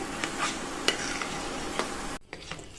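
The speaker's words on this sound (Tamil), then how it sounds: "மிதமான தீயில வச்சு இந்த மாதிரி கிண்டி கொடுத்துட்டே இருக்கணும்" Jaggery and grated coconut are stirred in a pan over a medium flame, with repeated close scrapes and taps of the spoon over a low sizzle. The sound cuts off abruptly near the end, leaving a few quieter strokes.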